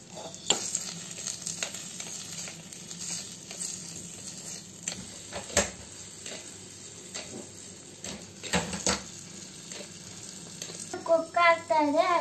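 Masala dosa potato filling fries in a pan with curry leaves, green chillies, tomato and turmeric, giving a soft steady sizzle. A spoon scrapes and stirs in repeated clicks, and a faint voice briefly comes in near the end.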